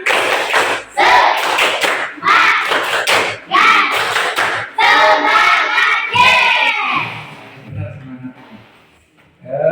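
A primary school class performs a rhythmic spirit clap, bursts of many hands clapping in a patterned beat alternating with children chanting together, loud and close, fading out near the end.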